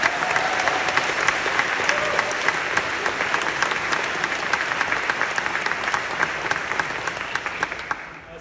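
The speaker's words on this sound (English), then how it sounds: "Big round of applause." A graduation audience at Harvard applauds for a speaker, a large crowd clapping in a dense, continuous roar that holds steady for several seconds before slowly easing off.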